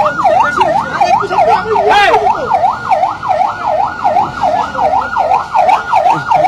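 An ambulance siren wails in a fast, regular up-and-down cycle, loud and close and holding steady, with traffic noise and a few voices underneath.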